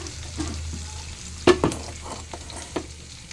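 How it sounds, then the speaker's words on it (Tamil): Ivy gourd and onion sautéing in a pan, with soft stirring scrapes and a faint sizzle, punctuated by a sharp utensil clatter and a few quieter knocks. "இந்த கோவக்காய் பெரிய வெங்காயம் போட்டு வதக்கி இது வதக்கிட்டு இருக்கேன்"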